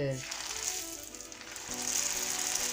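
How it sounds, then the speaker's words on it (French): Shrimp brick pastries fry in oil over gentle heat with a steady close sizzle that swells louder toward the end, over faint background music. "Donc maintenant on va passer à la friture."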